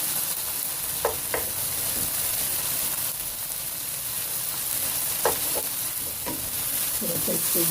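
Red chilli powder, coriander powder, salt, black pepper and crushed red chilli frying in a pan for chicken shawarma, a constant sizzle with a few spoon scrapes and clinks, near and moderately loud.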